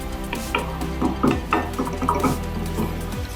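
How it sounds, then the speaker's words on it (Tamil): Water splashes and trickles into a pan of mushroom pepper masala with a few soft stirring and clinking sounds. "இப்போ இதுல தேவையான அளவு தண்ணி சேர்த்துக்கலாம்."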